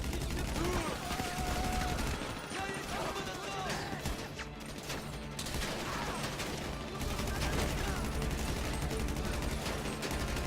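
Rapid automatic gunfire during a Fleeca bank heist shootout in GTA V, dense continuous bursts of shots with crashes and mechanical clatter layered over a steady game soundtrack, loud and sustained.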